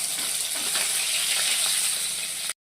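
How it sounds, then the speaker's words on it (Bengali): Pomfret fish fry in hot oil with a dense, even sizzling hiss held close and constant, then cutting off abruptly. "এবার আমি এক এক করে পমফ্রেট মাছগুলি ভাজবো"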